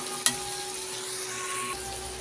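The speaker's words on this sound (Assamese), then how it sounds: "2 মিনিটমানৰ কাৰণে মই এইদৰে ভাজি ল'ম" Spices with turmeric fry in a pan before Maggi noodles go in, giving a soft, steady sizzle with one brief clink early on and no talking.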